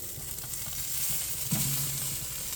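Ribeye steak searing fat-side down over a flame, a steady close sizzle with a sudden brief flare-up of fat hissing louder midway.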